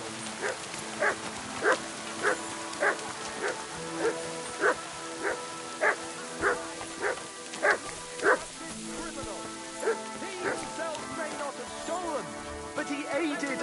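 A dog barks in a steady series of about sixteen evenly spaced, moderately loud barks over a continuous musical background, and a voice speaks partway through.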